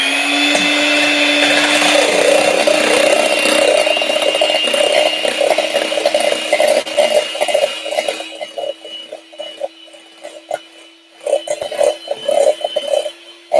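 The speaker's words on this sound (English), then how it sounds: "turn on an electric whisk while she's in the bedroom above you" Electric whisk whisking meringue for macarons, a loud close-up whirring motor with a steady pitch, turning into rapid rattling bursts near the end as the beaters knock against the bowl.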